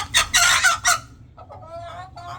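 Excited chicken vocalizations, a loud burst of squawking clucks followed by quieter, drawn-out clucking calls nearby.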